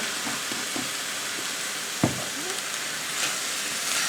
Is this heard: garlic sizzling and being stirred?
yes